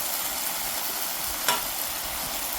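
Steady, close sizzling of bacon kimchi fried rice being stir-fried in a hot pan, with a brief scrape of stirring midway through.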